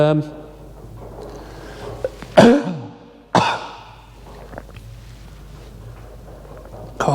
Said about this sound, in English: talking's making me cough